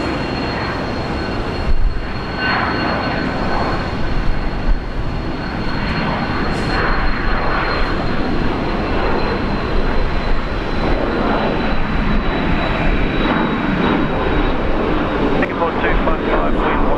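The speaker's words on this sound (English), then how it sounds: "right behind that we've got Singapore. Yeah, flight 255. Coming in from Changi. Singapore Princess" A Singapore Airlines Airbus A350 jet arrives from Changi, its engine roar a steady broad rumble that persists throughout, with people talking over it at an airport.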